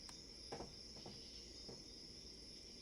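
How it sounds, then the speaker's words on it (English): Cricket chirping sound effect, a steady high-pitched continuous trill running faintly throughout, with a few soft thumps and clicks under it and no talk. "Let's turn the crickets off."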